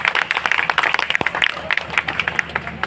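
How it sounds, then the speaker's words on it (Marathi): An audience claps before a Buddhist puja at a ward gathering ahead of a procession, with quick, uneven claps spread through the crowd at moderate volume. "जोरात टाळ्या वाजवा."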